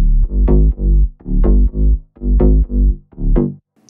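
Punchy house-music bass synth stabs without bus compression play in a choppy rhythmic pattern, about eight short loud hits with gaps of silence between them, clean and alone.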